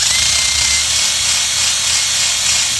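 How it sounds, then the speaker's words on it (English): A rotary tool spins a rubberized dry polishing wheel against a Chevy/GMC door panel to strip leftover door-molding adhesive from the paint, giving a steady, close, high-pitched whirring drone that runs without a break. "polishing wheel essentially, and it's just rubberized, so it grabs all that stuff and peels it right off"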